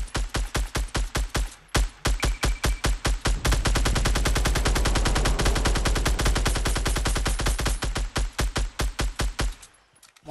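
Rapid automatic gunfire in Fortnite: long bursts of evenly spaced, sharp shots, loud and close, with a short pause early on and a fade near the end.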